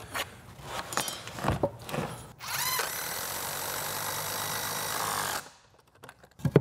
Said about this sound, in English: we should just be able to drive a couple screws in